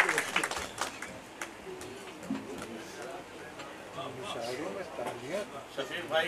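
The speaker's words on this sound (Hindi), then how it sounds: "एक बार मूसलाधार गड़गड़ाहट में ये बरस जाए" Scattered, thin clapping from the audience at a poetry gathering, loudest in the first couple of seconds, then someone speaks over the fading claps.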